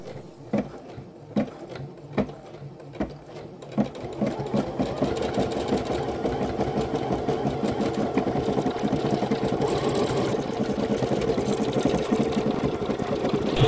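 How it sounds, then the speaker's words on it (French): A Bernina Chicago 7 embroidery machine stitching at four times normal speed: a few spaced mechanical clacks at first, then a dense, fast continuous whirring chatter of needle strokes, close and steady. "j'ai mis en accéléré, hein, ça a accéléré 4 fois les séquences de broderie"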